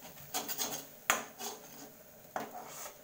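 Mushroom curry is stirred in a pan over a low flame: a spoon scrapes across the metal in several rasping strokes, punctuated by two sharp clinks against the pan's side.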